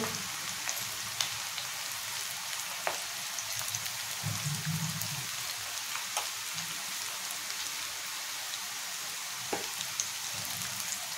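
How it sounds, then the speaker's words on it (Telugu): Onion and cashew pakodi fry in hot oil with a steady, close sizzle and scattered crackling pops that patter like rain throughout, with no voices. "ఇలా వేసేసుకుని వేపించుకోవాలి."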